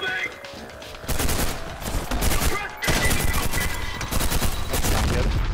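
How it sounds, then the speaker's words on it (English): An assault rifle fires in the video game Trepang2, loud close bursts of rapid automatic fire in several long strings separated by short gaps. "I like how this is like an assault rifle."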